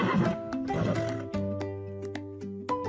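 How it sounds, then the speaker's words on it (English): A farm horse whinnies with a drawn-out, quavering neigh, close and clear, over a busy backdrop of light hoof taps and a few sharp knocks. "It's a horse."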